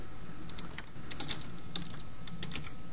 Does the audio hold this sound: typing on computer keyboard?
yes